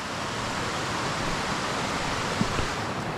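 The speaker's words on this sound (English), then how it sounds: "it's nice and therapeutic when you hear the water trickling over the drop downs" Water trickles and rushes over the stepped drops of a woodland waterfall, a steady, dense wash of noise with no pauses and no voices.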